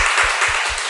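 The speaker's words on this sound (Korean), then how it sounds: "우리 박수 한번 해줘." A church congregation claps together during a Sunday worship service, a steady wash of many hands applauding in the room, brief and fairly loud with no speech.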